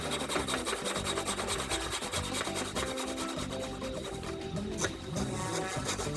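Hand saw cutting a piece of wood along a marked line while shaping a homemade spear gun stock, a steady run of close, rapid rasping strokes that continues throughout with no talk.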